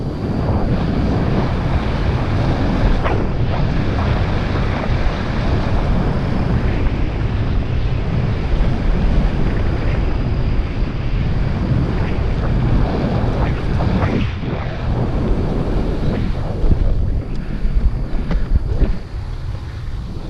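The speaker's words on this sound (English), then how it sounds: "That creek's nice and filled up" A full creek rushes steadily outdoors, a dense continuous wash of water mixed with wind buffeting the microphone, with a faint voice now and then.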